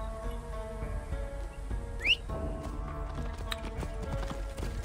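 Hooves clip-clop steadily from a horse in Assassin's Creed Origins, moderately close, under a layer of game ambience with a brief whistle-like chirp partway through.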